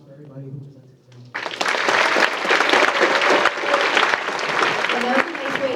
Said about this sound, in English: one more round of applause for everybody who presented today